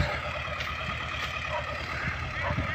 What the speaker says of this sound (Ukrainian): Копалка німецька, шмуцер, тракторна